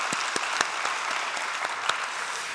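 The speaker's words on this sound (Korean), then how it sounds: "주님께 우리의 마음을 전달하는 박수 한번 올려드리면 좋겠습니다" A church congregation claps together in a dense, steady round of applause at a Sunday evening service, filling the space with continuous overlapping hand claps.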